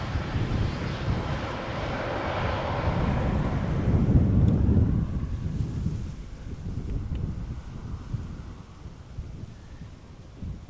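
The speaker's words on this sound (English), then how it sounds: "The Embraer 190, a city flyer, having arrived from London City." KLM CityHopper Embraer 190 jet arriving at Schiphol from London City, a broad rumbling roar that swells toward the middle and then fades into a low, distant wash.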